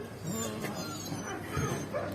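A dog barks and whimpers close by in a village setting, short yips and whiny cries mixed with background voices.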